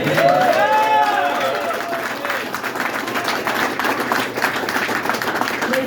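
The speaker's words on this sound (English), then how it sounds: "yes, you can applaud that if you like." Audience at a political cryptocurrency announcement in London, Ontario claps loudly and steadily throughout, a dense crowd of applause with scattered cheers and a voice over it at the start.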